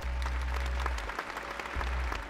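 Quiet, scattered clapping from the video game Jazzpunk patters softly in the background over a low electronic hum, brief and without cheering.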